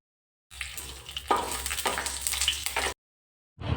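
Coconut pieces, dried red chillies and curry leaves are stirred in hot coconut oil for a Kerala chicken roast, giving a close, crackling sizzle with scraping stirs that cuts off, then briefly returns.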